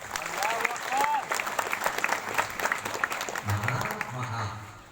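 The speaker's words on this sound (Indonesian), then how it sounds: "Tepuk tangan dulu." An audience at a religious lecture breaks into sustained applause, a dense, steady patter of many hands clapping throughout, with voices heard underneath.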